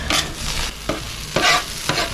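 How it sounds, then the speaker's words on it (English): Beef and vegetables for fajitas sizzle and crackle on a hot griddle while a metal utensil scrapes and stirs in several short strokes; no one speaks. "will still sizzling nice"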